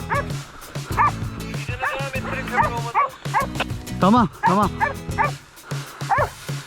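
A hunting dog barks and yips repeatedly in short bursts during a wild boar hunt, mixed with whimpers, while people talk nearby.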